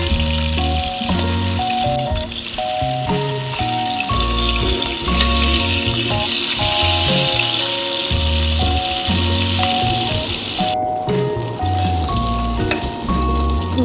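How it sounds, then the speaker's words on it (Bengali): Hilsa fish heads deep fry in a pan of hot oil with a loud, crackling, continuous sizzle, heard under steady background music. "মাথাগুলো দিয়ে দিলাম, এবার মাথাগুলোকে একটু ভালো করে ডিপ ফ্রাই করে নেবো।"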